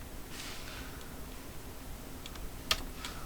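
Numbers are typed on a computer keyboard for an Excel spreadsheet formula, with a few light, close keystroke clicks and one sharper tap near the end over faint room noise.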